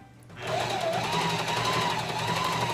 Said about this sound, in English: just continue to keep sewing all the way until you reach the end of your fabric